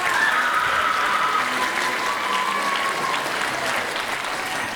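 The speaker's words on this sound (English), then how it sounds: "Give him a round of applause." A school auditorium crowd at a county band event claps in a thick, continuous round of applause, loud and even, slowly easing toward the end with faint murmuring underneath.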